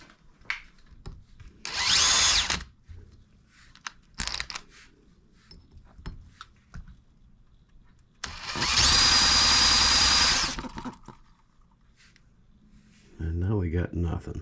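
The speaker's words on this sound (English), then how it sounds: "We might use the drill attachment." A drill attachment is used to turn over a small H73 engine, in two loud whirring bursts of a couple of seconds each, close up, with a deeper engine-like buzz near the end and talk between the bursts.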